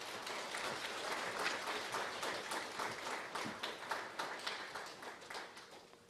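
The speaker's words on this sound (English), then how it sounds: "Please give a big round of applause again." Audience applause at a Buddhist-themed conference on mind, science and religion, steady broadband clapping from a sizable crowd lasting several seconds, with a few individual claps standing out near the end as it thins.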